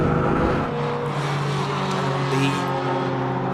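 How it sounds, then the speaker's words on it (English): Race cars in a Super Saloons and Tin Tops race roar down the straight at Silverstone, a loud, continuous engine drone with layered harmonic tones, close and steady throughout. "The straight again, and Rod Birley's just going to drive past the whole lot of them"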